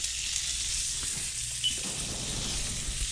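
Frozen sausage patties fry over medium heat in a skillet, giving a steady, close sizzle with faint occasional pops and no talking.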